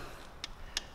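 Ratchet wrench clicking while loosening bolts on a BMW S54 engine during oil pump removal: a few sharp, quiet, widely spaced clicks, close by and alone with no talk.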